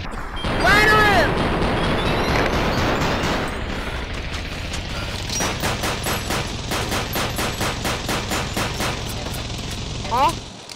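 Rapid gunfire in the VR shooter Crisis VR 2, with close, loud bursts and a long run of evenly spaced shots, plus a few impacts and crashes and a short voice near the start.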